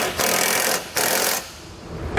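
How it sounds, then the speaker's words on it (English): A 3/4 inch socket on a power tool driving flange nuts to tighten Curt trailer hitch receiver hardware on a 2012 Ford Taurus, with two loud close bursts of whirring, a short pause between them, then a quieter tail. "Then we'll come back and we'll tighten all of our hardware down with a 3/4 inch socket."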